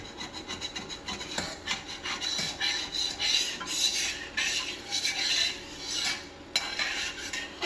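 Scraping stuck-on residue from a stainless steel pan makes a continuous gritty rasping, close up, with repeated strokes and a few louder scrapes, and no one speaking.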